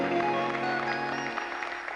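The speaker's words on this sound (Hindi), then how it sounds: "तालियों में हम कवि को रुखसत करते हैं।" A television studio audience applauds as a poet departs, a dense, steady wash of clapping over a sustained musical tone that fades slightly toward the end.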